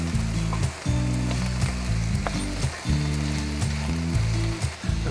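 Chicken strips frying in a pan, a steady close sizzle with crackle throughout, broken by a few short clanks and scrapes, no talking.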